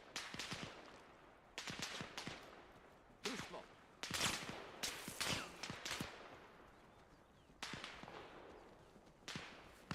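Gunfire in ArmA Reforger during a sawmill battle near a military base on Kolguyev, sharp loud shots in irregular bursts and single cracks spread across the stretch, with faint voices in between.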